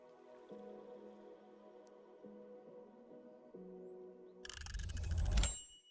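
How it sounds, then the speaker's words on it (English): A soft chime in a co-working session rings out in several gentle tonal notes, faint and ringing, followed by a brief louder burst of noisy rustle at the end. "I think that's the chime for the first 10-minute break for this hour"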